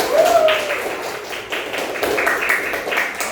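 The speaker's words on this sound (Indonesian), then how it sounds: "Ya, tepuk tangan." Children clap their hands in a classroom lesson on the signs of puberty, a scattered and uneven patter of claps running throughout with a voice briefly heard near the start.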